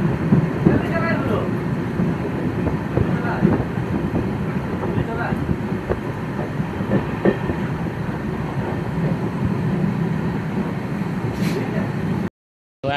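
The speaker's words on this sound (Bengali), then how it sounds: "আমাদের ট্রেন ছেড়ে দিল পরবর্তী গন্তব্যের দিকে" Passenger train pulling out of Sonamukhi station heard from on board, a continuous rumbling roll with faint clicks of wheels on rail joints and wind buffeting, under occasional nearby chatter, then cutting out briefly near the end.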